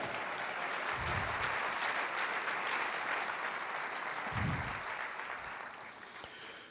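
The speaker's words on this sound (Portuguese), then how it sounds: "Aplauda o Senhor" A church congregation applauds in sustained, loud clapping that fills the whole stretch, with a couple of low thumps or voices rising briefly beneath the steady applause.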